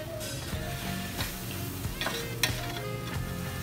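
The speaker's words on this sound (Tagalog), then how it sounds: "lagay na natin at higisan natin kasama ng ating chicken" Unripe jackfruit and chicken are sautéed in a pan, with a close, steady sizzle and a few scraping stirs and light knocks over a short span, no voices.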